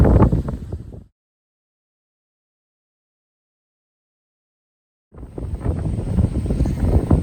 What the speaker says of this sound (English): Taking a break because it's kind of windy.